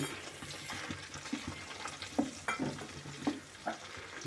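Mustard seeds and green chillies frying in hot oil for an Andhra-style ridge gourd curd chutney, a steady close sizzle broken by scattered sharp pops and crackles, with no talking.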